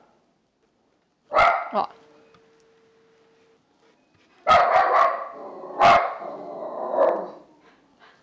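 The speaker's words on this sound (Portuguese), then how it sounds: "Meu cachorro tá latindo, gente." A pet dog barks indoors in a workshop where MDF crafts are made, giving a short double bark, then a longer burst of several loud, close barks and yips over about four seconds, with a brief human exclamation.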